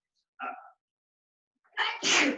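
A quick intake of breath, a pause, then a single sharp sneeze bursts out close by in an otherwise silent moment.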